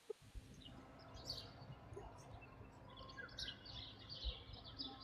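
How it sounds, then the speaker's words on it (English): Birds chirp faintly in the background behind an online audio chat, with scattered high tweets and short calls over a low rumbling hum and no clear speech. "the birds sound beautiful"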